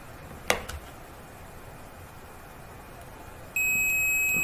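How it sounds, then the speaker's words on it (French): A sharp click, then quiet, then a multimeter's sustained high continuity-test beep starts and holds steadily to the end, clear against faint background hiss. "vous réentendez le bip"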